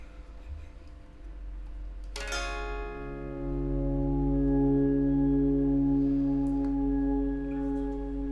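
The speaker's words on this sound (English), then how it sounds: "what a volume swell does is it removes that initial attack and allows" Electric guitar notes swell in gradually with the attack softened, one chord blooming and sustaining as its volume rises and then eases off, played alone.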